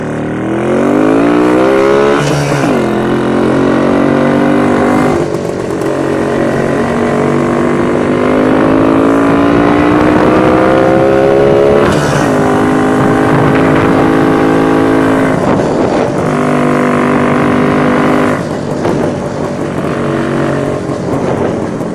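A Jawa motorcycle fitted with an Indian PACCO carburetor runs loudly close by on a test ride, its engine note rising and falling through repeated gear changes with brief dips between pulls.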